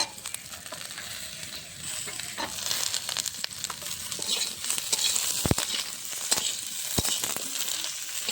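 Potatoes frying in a pan as flat beans are tipped in, a close crackling sizzle that swells, punctuated by sharp utensil clicks and knocks.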